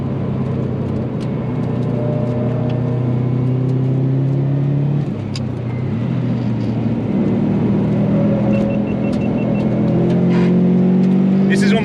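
A Subaru WRX STI engine drones loud and close on a race track, its pitch rising and falling through shifts and acceleration, steady throughout with a voice speaking over it.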